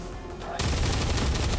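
Gunfire from the video game XCOM 2: after a quieter stretch, a sudden loud burst of shots erupts and keeps rattling as a dense, continuous barrage to the end.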